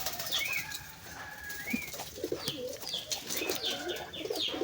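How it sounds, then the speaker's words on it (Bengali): King pigeons coo softly and repeatedly at close range, with small birds chirping in the background and occasional wing flutters. "আমাদের কিং কবুতর দুটো ওই যে ওখানে আছে"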